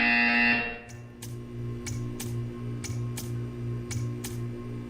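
A sharp electronic buzzer from the video game Portal sounds in a quick series of short repeated bursts over a low steady hum, after a sustained tone fades out.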